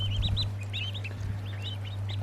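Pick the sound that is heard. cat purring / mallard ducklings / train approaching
mallard ducklings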